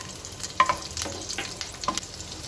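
Mustard seeds, grated ginger and green chili hit hot oil for a tempering, giving faint crackling sizzle with a few sharp pops and light stirring scrapes, fairly quiet throughout.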